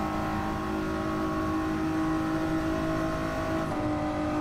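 A Toyota Alphard in Gran Turismo 7 revs hard in a high gear, its engine a steady, loud droning whine with a slight pitch drop near the end.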